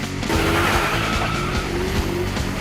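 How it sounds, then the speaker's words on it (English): Race cars roaring close by with engines revving and tires squealing in a sustained skid, loud and continuous throughout. "Rev up your engines!"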